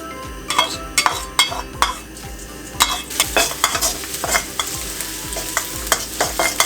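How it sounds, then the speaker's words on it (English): Garlic frying in oil in a pan while cooking pad thai, a steady close sizzle broken by repeated scraping and stirring strokes of a utensil against the pan, with occasional light clinks. "Fry it up until you can smell the smell of garlic"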